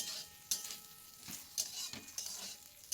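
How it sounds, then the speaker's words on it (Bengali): Goat tripe frying crisp in a pan gives a steady, close sizzle with several sharper scrapes and clatters of a utensil against the pan. "ভুঁড়িগুলো ভালোভাবে আমরা খড়া খড়া করে ভেজে নেব"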